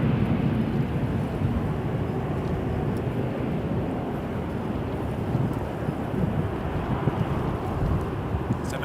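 Boeing 787 Dreamliner airliner at Toronto Pearson airport, a steady broad jet roar held at even loudness throughout, with wind buffeting the microphone.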